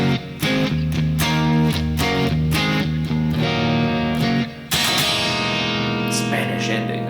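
Electric guitar playing the more aggressive third section of a song from the Twister soundtrack, loud driven chords with rhythmic chugs, a short break near the end, then a sustained distorted chord ringing out.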